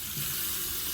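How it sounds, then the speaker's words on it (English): Water from a sink tap in a car camping setup rushes in a steady, close, hissing stream for under a second, with no voices. "it actually has running water"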